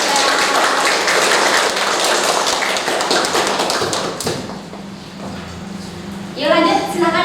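Students in a classroom clap after a group presentation, a loud, dense patter of hands that fades out midway before a voice starts speaking.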